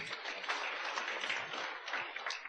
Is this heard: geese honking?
no